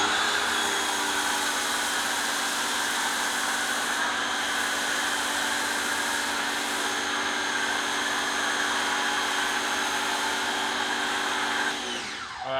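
A pressure washer drives a MaxShine Snow Master foam cannon fitted with a 1.1 mm orifice, giving a loud, steady, close hiss and whine that holds constant before cutting off near the end.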